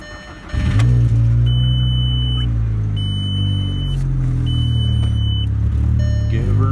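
A cold 2002 Jetta with a 2.0 engine and a big cam fires up and settles into a loud, steady, close-up running rumble that holds for several seconds before tapering at the end.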